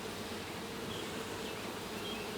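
Nurse bees crowd a brood frame lifted from a hive, their dense, steady buzzing humming close and unbroken.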